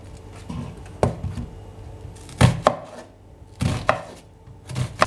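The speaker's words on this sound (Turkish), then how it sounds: "2 adet orta boy soğanı yemek doğruyorum" A knife chops onions rhythmically on a cutting board, with several sharp, close thuds and short bursts of quick strokes between quieter pauses.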